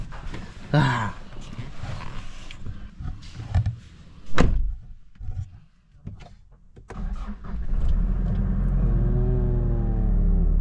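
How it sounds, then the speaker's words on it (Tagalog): A Nissan Terra SUV is started so it can warm up before a long road trip. Rustling and a few clunks like a door come first, then the engine cranks, catches and settles into a steady, close idle. "So tara, kainitin muna natin yung sasakyan natin."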